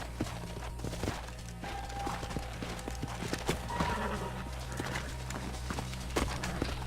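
Horses' hooves clip-clop at a walking pace in Red Dead Redemption over steady low game ambience, with faint background noise and no clear talk.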